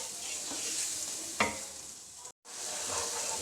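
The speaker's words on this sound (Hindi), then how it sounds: "सुरख मिर्च और कलवंजी डालकर इसको अच्छी तरह से भून लेंगे" Tomato masala with red chili and kalonji frying in a pan, a steady close sizzle with a spoon scraping through it once, then a brief break before the sizzling resumes.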